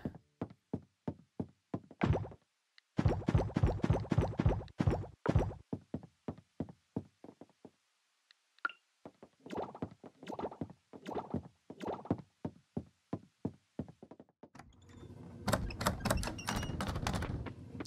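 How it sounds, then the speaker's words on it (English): Repeated door knocks and thunks in the farming video game Coral Island form irregular clusters of sharp taps, separated by short pauses and a longer gap, and turn denser and noisier near the end. "What's going on with the door sounds on there now?"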